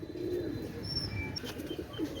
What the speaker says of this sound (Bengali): অনেক সুন্দর কবুতর পাকিস্তানি সরি ইন্ডিয়ান রামপুরি কবুতর